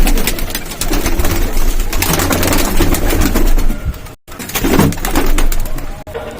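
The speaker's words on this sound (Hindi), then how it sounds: "ये आ गए जी कबूतर बाहर" Cut-wing pigeons being let out of their coop coo softly and flutter nearby amid a loud, dense background of rushing noise, with the fluttering and cooing continuing steadily.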